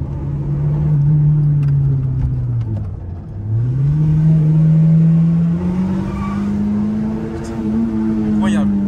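A 1996 Peugeot 106 Rallye engine revving and pulling while driving, with a strong rising and falling engine tone that dips around mid-clip before climbing again, heard close from inside the car under people talking.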